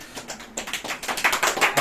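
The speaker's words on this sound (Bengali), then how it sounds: "জোরে জোরে হাততালি মারছে" Quick, sharp hand claps at a home birthday party for a mother-in-law, a rapid rhythmic run of close, fairly loud claps that grows busier toward the end.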